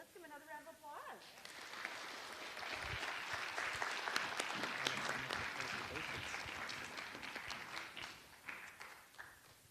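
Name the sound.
congregation applause for spelling bee participants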